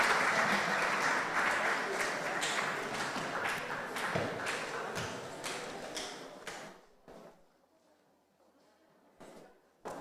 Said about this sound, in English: I want you to welcome these presbyters with a round of applause